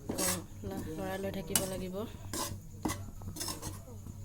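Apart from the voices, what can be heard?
stirring rice flour while dry-roasting in a pan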